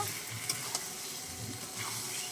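Young jackfruit and potato biryani mixture sizzles steadily while being stirred and fried in a pan, with a couple of sharp spatula scrapes near the start and no voices.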